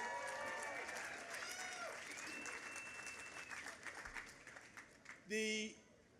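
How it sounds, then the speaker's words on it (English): Crowd at the opening celebration of a new subway line applauding, a quiet, distant patter of clapping with whoops and voices mixed in, fading toward the end before a brief louder voice cuts in. "So let's give them a round of applause."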